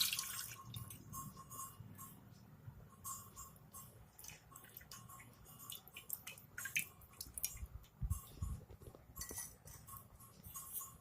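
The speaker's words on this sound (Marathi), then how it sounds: "रस गाळून घेऊ" Lemon juice strained through a small strainer to catch the seeds for a lemon and jaggery pickle, with faint dripping, trickling liquid and light metal clinks against a dish, quiet and close with no talking.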